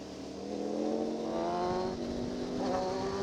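A car engine rises and holds a steady drone nearby, heard from a motorcycle on an uphill road ride, with a broad roar of wind and engine under it and no talk.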